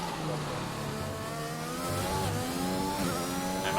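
A race car engine in a racing video game drones and revs continuously, its harmonics climbing and dipping through gear changes in a loud, sustained whine.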